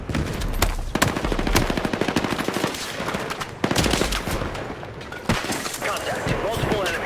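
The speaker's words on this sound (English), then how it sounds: "Contact. Multiple enemies. Opening fire." Rapid automatic gunfire in the Battlefield 6 video game crackles in fast bursts close by, with sharper single shots and impacts, while soldiers' voices call out over it.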